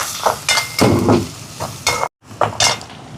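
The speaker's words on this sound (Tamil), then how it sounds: "இந்த வெள்ளைப்பூடு கொஞ்சம் பொரியட்டுக்கணும் நம்ம" Grated garlic and curry leaves frying in hot oil for Sri Lankan egg rolls, bursts of sizzling mixed with a spoon stirring and clinking against the pan, close and fairly loud, with a brief silent gap.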